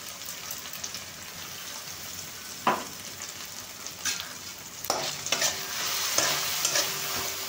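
Ginger and green chilli paste frying with melted tomatoes for a home-style mixed vegetable dish, a soft continuous sizzle broken by occasional spoon scrapes and clinks as it is stirred, close up and without speech.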